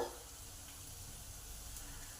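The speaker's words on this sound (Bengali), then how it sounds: "পেঁয়াজটা লাল লাল করে ভাজা হয়ে গেছে" Curry leaves and onion frying in a pan, a soft, steady sizzle with fine crackling, close and quiet, running evenly without pause.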